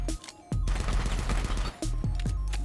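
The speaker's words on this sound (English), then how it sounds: "This is rapid fire with the strafe." Rapid video game gunfire with strafing, using a Strike-Pack FPS mod: two loud, dense bursts of automatic shots split by a brief gap, heard alone.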